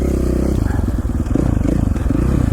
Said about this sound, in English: I can't hear myself talk most of the time over the engine noise.